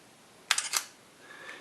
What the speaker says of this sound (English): You can hear the actual mechanical sound of the shutter, but there is also a fake sound emitted through the microphone.